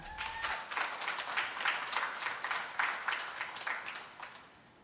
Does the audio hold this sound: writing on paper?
no